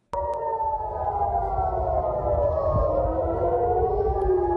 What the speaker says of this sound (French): les sirènes de l'état d'urgence retentissent à Jérusalem